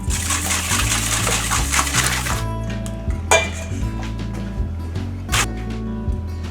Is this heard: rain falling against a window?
no